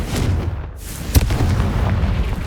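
A Confringo fire-blast spell explodes in the Hogwarts Legacy video game: one sharp, loud burst in the middle, set against a steady low rumbling game backdrop.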